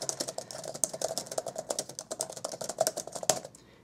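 Rapid, light keystrokes on a Surface Pro 3 type cover keyboard, a quick, fairly regular patter of soft clicks close to the microphone, fading out in the last half second.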